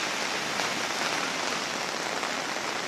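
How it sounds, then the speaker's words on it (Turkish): Heavy rain falling during a summer flood in Ayancık, Sinop: a dense, steady hiss of rainfall on surfaces, continuous and fairly faint, with no voices. "Yağışların şiddetli olarak devam ettiği söyleniyor."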